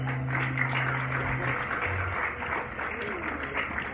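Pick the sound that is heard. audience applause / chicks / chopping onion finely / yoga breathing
audience applause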